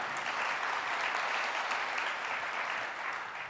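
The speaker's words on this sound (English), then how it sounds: "A quick round of applause for them, please" Steady applause from an audience greeting three panelists at a campaign discussion event, a dense even wash of clapping that holds for several seconds before easing slightly at the end.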